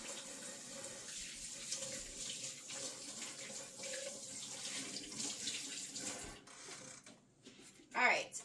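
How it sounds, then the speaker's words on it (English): Running tap water pours steadily into a sink as someone washes their hands, then a brief clatter and a short splash near the end. "Wash my hands."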